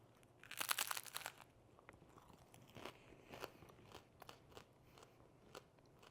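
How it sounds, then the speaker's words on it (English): Close, crisp crunching bites and chewing of a rice cake topped with tuna salad, celery and radish, a loud burst of crackling crunches at first followed by softer irregular chewing, with no talking. "the crunch of the rice cake plus the crunch of the celery and the radish"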